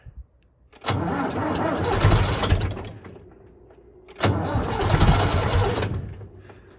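A Chevrolet Blazer engine cranks in the cold in two long, loud bursts of rapid rhythmic starter churning, each failing to catch, separated by near silence, close to the listener.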